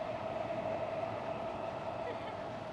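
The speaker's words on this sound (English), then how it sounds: "You can hear the subway underground." A steady low rumble of a subway train passing underground on a Tokyo street between Shibuya and Harajuku, continuous and muffled, with faint background noise over it.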